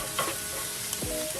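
Onions sauteing in a pan for New Orleans-style dirty rice, a soft steady sizzle with a stirring scrape and a brief utensil tap, close and moderately quiet, with no talking.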